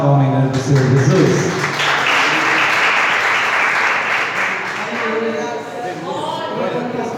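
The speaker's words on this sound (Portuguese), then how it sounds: "Uma salva de palmas em nome do Senhor Jesus." A church congregation at an Assembleia de Deus service applauds together, a sustained wash of clapping that swells strongly early, then holds steady and slowly thins, with voices mingled in the crowd.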